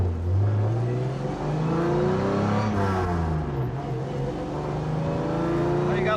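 A 1955 Mercedes-Benz 300SL engine climbs through the gears, loud and close, each rising rev sweep dropping at a shift before pulling up again, with a brief whoosh of passing air near the middle.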